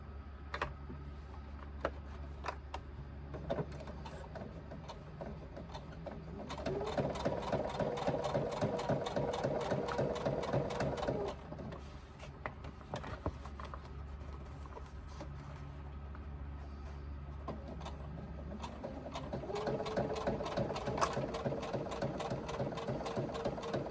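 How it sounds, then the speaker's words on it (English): A sewing machine stitches thick non-waterproof canvas within the seam allowance, running in long steady bursts with a soft mechanical hum, close and fairly quiet, pausing briefly between runs. "You're stitching within your seam allowance."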